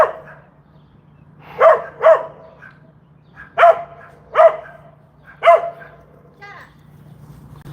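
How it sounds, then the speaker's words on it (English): A dog barks in five sharp, loud bursts spaced irregularly over a steady low hum, close to the listener, with a faint whimper near the end. "Give me 1 minute, I'll be moved away from this dog."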